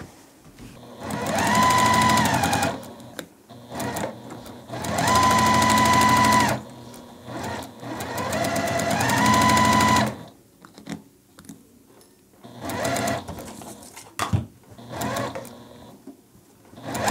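A sewing machine stitches quarter-inch seams along quilt block rows for a churn dash block, running in three loud sustained bursts of steady whirring with short pauses between, then quieter handling sounds.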